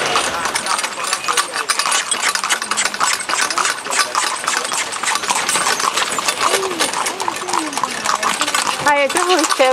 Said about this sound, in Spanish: Mira cómo el caballo corre